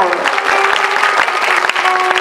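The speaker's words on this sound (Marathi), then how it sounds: "जोरात टाळ्या वाजवा, टाळी वाजवायला कंजूसी करू नका।" Enthusiastic audience applause at a devotional Shiva Purana storytelling event, sharp close claps forming a brisk dense patter with a sustained tone underneath.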